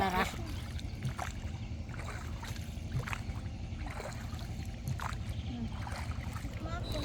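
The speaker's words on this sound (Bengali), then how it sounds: "নৌকার বৈঠায় পানির আওয়াজটা অনেক সুমধুর লাগে।" A wooden rowboat crossing a river, oars dipping and splashing in a slow repeating rhythm with faint trickles of water, while people chat and laugh softly on board.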